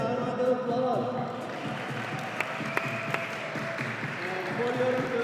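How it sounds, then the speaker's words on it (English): An audience applauds a youth under-14 climber finishing her final route at a climbing competition, with a steady wash of clapping and a few sharper claps, set against a room echo and a voice speaking over it. "Let's give Sidra a round of applause."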